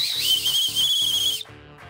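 A toy whistle is blown hard in a shrill, sustained blast lasting over a second, followed by a short quieter tone, close and loud.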